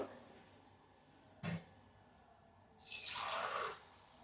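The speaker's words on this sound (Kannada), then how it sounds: "ಸ್ವಲ್ಪ ನೀರನ್ನು ಹಾಕ್ಕೊಳ್ತಾ ಇದ್ದೇನೆ" Water poured into a small cup of grated coconut in a grinder jar for okra sambar masala, a brief splash followed by a louder, steady pour of about a second.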